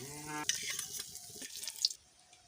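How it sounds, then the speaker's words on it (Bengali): Pieces of rohu fish fry in a pan of hot oil, giving a soft, steady sizzle with small crackles and the faint scrape of a turner. It starts after a short tonal hum, stays fairly quiet and close, and no one speaks. "আমি সবগুলো উল্টে দিয়েছি এপাশও ফ্রাই করে নেব"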